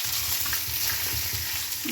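Raisins fry in hot ghee for a Kerala-style cherupayar parippu payasam, a close, steady sizzle with soft rhythmic scraping from stirring running through the whole short stretch.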